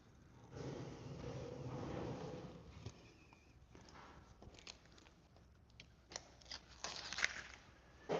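A blade slices vinyl wrap on a Subaru along the rubber gasket, with quiet scattered snips and crunchy cuts, a brief rustle of film near the start, all faint and close.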